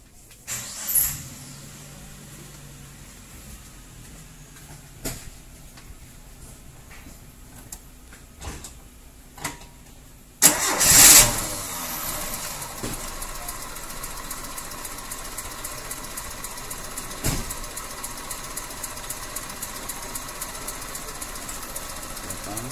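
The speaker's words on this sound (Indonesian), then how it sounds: "Tinggal kita starter, kita nyalakan, kita tes." A Nissan Terrano engine cranks and catches after cleaning work, then settles into a steady, rhythmic idle with regular ticking pulses, recorded close by with quieter sounds and clicks before it starts.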